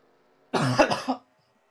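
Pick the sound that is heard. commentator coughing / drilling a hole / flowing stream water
commentator coughing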